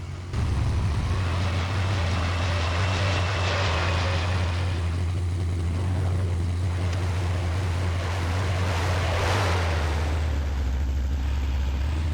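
In a video game, a light aircraft's propeller engine drones loudly and continuously, with a deep low hum and shifting hiss, no voices.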